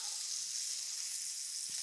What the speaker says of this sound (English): our steaks are going in, everybody. Here we go, into the butter bath. Oh, sizzle, sizzle.